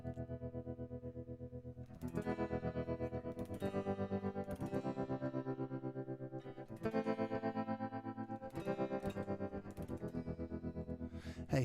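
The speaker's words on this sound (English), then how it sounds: "there's a nice ambient tremolo sound" Electric guitar, an LTD six-string, plays through an ambient tremolo preset on the sEGments FX iOS multi-effects app, producing sustained chords that pulse in a steady rapid throb, with fresh strums every couple of seconds and no speech.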